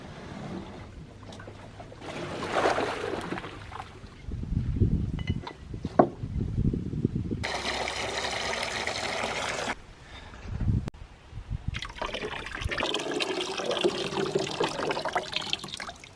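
Fresh water being poured and filled into a sheep water supply on a homestead, bursts of gushing and splashing liquid separated by quieter gaps, close and fairly strong, with no talk.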